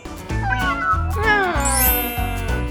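A cat, a newly adopted pet kitten, meows repeatedly in short, close, loud calls, several rising mews in quick succession with no talking.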